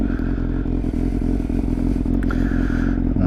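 A Yamaha Fazer 600 motorcycle ridden up and down a hill, its engine humming steadily and close with a continuous rumble, light clatter and brief scraping, no talking.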